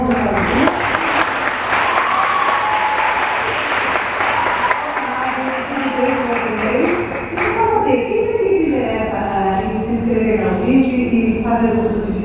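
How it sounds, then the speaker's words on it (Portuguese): Audience applause at a university law talk in a lecture hall, a dense sustained clapping that fills the first several seconds, then thins as voices and speech take over near the end. "Vamos dar uma salva de palmas para a"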